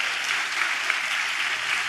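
A church congregation claps together during praise, a steady, even wash of many hands with no break, fairly close and moderately loud.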